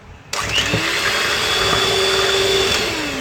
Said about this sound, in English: we're going to beat this on high for about 2-3 minutes to break down the egg yolk and get a frothy consistency